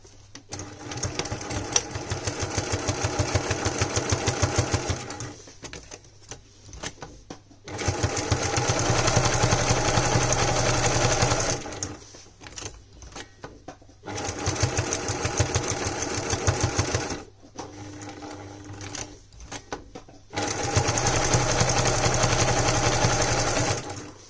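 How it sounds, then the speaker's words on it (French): Sewing machine topstitching fabric in four steady bursts of rapid mechanical whirring, each lasting several seconds, separated by short quiet pauses with faint handling noises, close up. "Et ici, on fait une surpiqûre."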